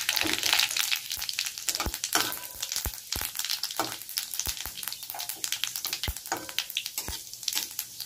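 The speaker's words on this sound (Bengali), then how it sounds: "আমার তেল গরম হয়ে গেছে, এবার দিয়েছি গোটা শুকনো লঙ্কা আর একটু জিরে।" Whole dried red chillies and cumin seeds crackling and sizzling in hot oil in a pan, a constant bright hiss broken by sharp pops and light stirring knocks, close up with no talk.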